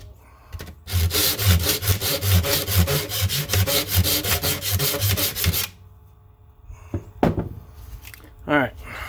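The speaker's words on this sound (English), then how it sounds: "Just that little piece was keeping me from sanding this nice and flat and even." Steady rhythmic rasping of sandpaper on wood, quick back-and-forth strokes for several seconds, then it stops and a few knocks and handling sounds follow.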